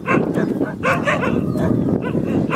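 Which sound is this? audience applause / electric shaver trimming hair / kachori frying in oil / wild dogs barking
wild dogs barking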